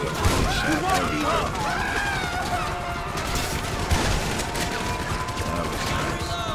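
Gunfire in GTA 5 during a shotgun fight, a dense, continuous clatter of shots and impacts mixed with game noise, with voices talking over it throughout.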